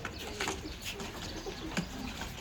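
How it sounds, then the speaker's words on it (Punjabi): Several pigeons coo softly and repeatedly inside a loft, with low murmuring calls overlapping at close range and a few brief flutters and chirps mixed in. "ਆ ਦੇਖੋ ਜੀ ਜੌਂਸਿਰੇ ਕਬੂਤਰ।"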